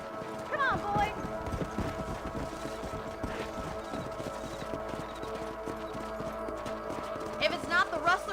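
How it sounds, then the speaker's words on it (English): Horses gallop in Red Dead Redemption, their steady clip-clop of hooves running throughout over in-game ambience and music, with a brief whinny near the start and voices talking over it. "Let's get back on the horses and see what else is going on."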